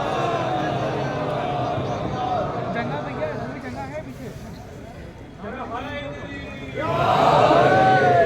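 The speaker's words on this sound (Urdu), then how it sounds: "آپ ان کی صحت و سلامتی کے لیے ان کے استقبال کے لیے نعرے صلوات بلند فرمائیں" Crowd of mourners at a majlis in Lucknow's Chota Imambara chanting salawat in unison, a swelling chorus of many voices that fades midway and then surges back louder at the end.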